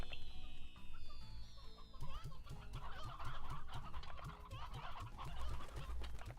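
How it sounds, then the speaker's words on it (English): Hens and a rooster in the video game Slime Rancher cluck in a quick, steady stream of soft, repeated calls, along with some game sounds in the background. "one stony hen, one rooster, 4 regular hen."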